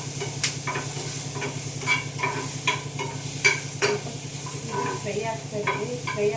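Tomato pieces frying in a pan, giving a steady close sizzle with stirring scrapes and clinks recurring every second or so, no voice over it.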